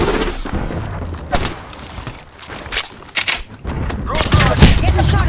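Gunfire in the video game Apex Legends, with irregular bursts of shots and booming impacts spread across a busy battle mix, loudest toward the end, over steady game background noise.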